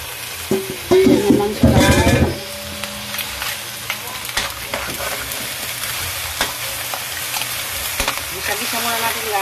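Mussels and other seafood stirred in a bubbling coconut milk stew, with a loud clattering burst of stirring early on followed by a continuous sizzle and soft scrapes.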